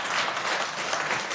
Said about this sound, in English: If I could ask everyone to not applaud,